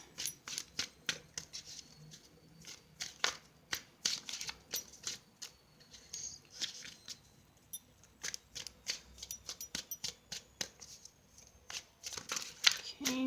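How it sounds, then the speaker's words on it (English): Tarot cards are shuffled by hand in repeated quick riffles and flicks, crisp close rustling bursts in an uneven rhythm, fairly quiet. "seems like shuffling's taking a little bit longer than usual."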